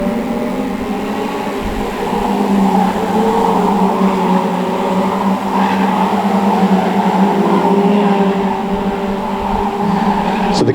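Stock rod cars race around the oval at Cowdenbeath Racewall in a national championship heat, a loud, steady roar of several engines running together, with a commentator's voice faintly mixed in.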